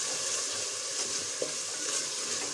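Loud, continuous sizzling and frying of a spice tempering with turmeric powder in a pan for sarson ka saag, with faint stirring, close up and with no talking.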